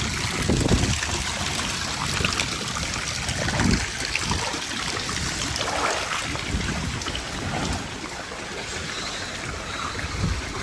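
Steady rushing rainwater flows continuously during heavy rain with a dense, washing roar, close by and fairly loud, with no voices.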